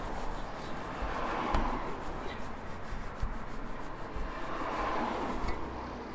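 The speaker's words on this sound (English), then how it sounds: "polish it off." A cloth rubbing and buffing a car exhaust tip with Meguiar's NXT Gen Metal Polish, a quiet, continuous scratchy friction close up with faint rhythmic strokes and no talking.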